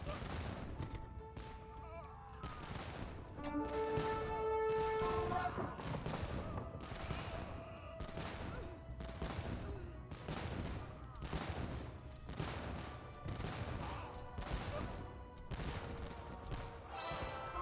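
Organ guns in a real-time strategy battle fire in rapid crackling volleys, dense repeated bursts of shots layered over continuous battle noise, with a few sustained tones mixed in and some speech underneath.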